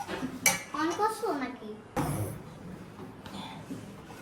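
A spoon stirs vanilla ice cream mixture in a cooking pot, giving a few sharp metallic clinks and scrapes while a person talks nearby.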